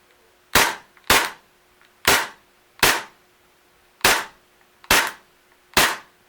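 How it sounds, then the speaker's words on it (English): A Tokyo Marui FN 5-7 green gas airsoft pistol dry fires seven times, each a sharp, loud, snappy crack at uneven intervals of roughly half a second to a second, with quiet between shots. "Of course, I am dry firing this, however, I do not recommend it."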